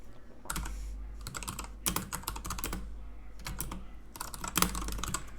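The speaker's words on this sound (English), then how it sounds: "I'm just typing in something random and seeing what we got." Rapid clattering keystrokes on a computer keyboard come in irregular bursts with brief pauses, close and fairly quiet over a low steady hum, with no talking.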